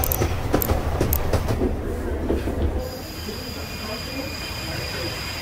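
A train rumbles past in the Henry Stickmin video game, loud clattering wheels and rolling noise that drop to a steadier, quieter hum partway through, with some talking over it.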